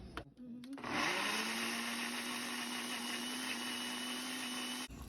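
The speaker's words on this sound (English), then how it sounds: "you just want to blend it till it's nice and smooth" Countertop blender whirring steadily as it purees chipotles in adobo with oxtail broth for a birria-style soup, a loud sustained motor drone after a brief start-up, running alone for about four seconds before cutting off.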